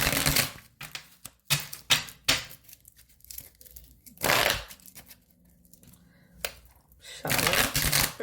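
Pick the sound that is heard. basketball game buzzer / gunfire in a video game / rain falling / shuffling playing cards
shuffling playing cards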